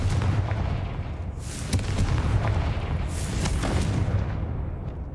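Blasting spell in Hogwarts Legacy, a heavy continuous rumble of explosions with a couple of sharper bursts layered over it, loud and dense throughout.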